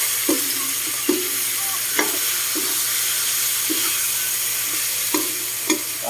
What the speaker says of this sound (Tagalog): halo-haloin lang natin yan hanggang sa mag-brown